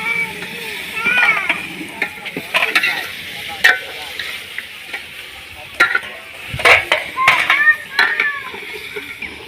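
Chicken pieces stirred and fried in a pot for a Pakistani-style chicken recipe, with a steady sizzle under repeated scraping spoon strokes and clinks, close up, plus faint background voices.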